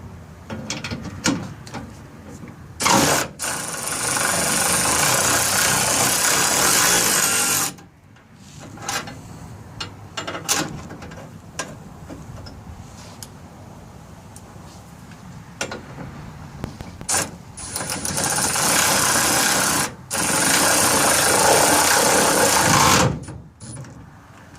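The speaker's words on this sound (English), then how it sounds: "I've got a short video of it loosening the retaining nut on the spare tire on my truck" Milwaukee M12 FUEL 3/8-inch cordless ratchet loosening a rusty spare tire retaining nut on a truck: loud whirring, rattling bursts of several seconds each, separated by short pauses, close up.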